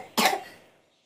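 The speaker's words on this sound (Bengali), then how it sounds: "আমার একটু কাশি হয়েছে" A child gives one sharp, close cough that fades out quickly.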